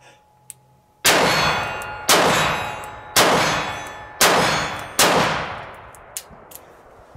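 Five gunshots from a Taurus 856 revolver, each followed by the bright metallic clang of a bullet striking a steel target, spaced about a second apart, sharp and loud with ringing decay.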